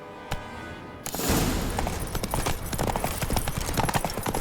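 Hooves of Roach, Geralt's horse in the Witcher 3 Wild Hunt next-gen game, setting off after a lone thump and then galloping in a quick, steady clatter over ambient game noise.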